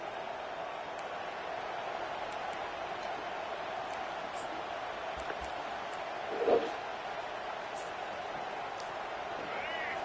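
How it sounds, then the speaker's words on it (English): Steady roar of a large stadium crowd in the college football video game NCAA 25, a constant wash of noise with a brief louder burst midway, mixed under faint commentary voices. "This crowd bringing the energy and noise early."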